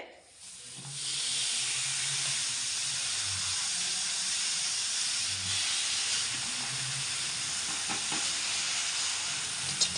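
Jaggery melting in a kadai gives off a steady, close hiss and sizzle that holds at an even level from about the first second to the end, with no voices.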